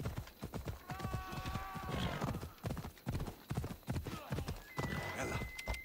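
Hooves clip-clopping at a brisk trot as a horse is ridden in Assassin's Creed Odyssey, with a whinny and soft game background sounds around them.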